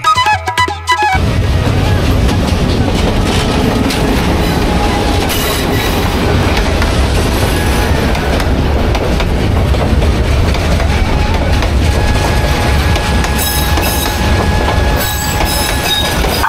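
A train passes Sitakunda railway station in Chattogram, heard up close from a waiting rickshaw: a loud, sustained rumble with rhythmic clickety-clack of wheels over rail joints and occasional high wheel squeal, continuous throughout.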